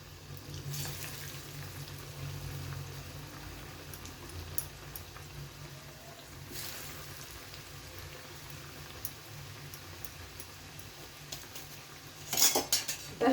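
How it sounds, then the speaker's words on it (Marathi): Fasting kachori slipped one by one into hot oil, with a steady low bubbling fry and occasional clinks of a metal utensil against the pan, ending in a brief burst of louder clattering. "इथे एक एक आपण कचोरी सोडायला सुरुवात करूया।"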